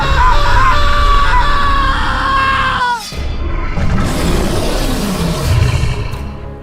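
A boy in a Gulli Bulli horror cartoon screams loudly, a sustained harmonic yell lasting about three seconds, followed by a noisy roaring, rumbling burst.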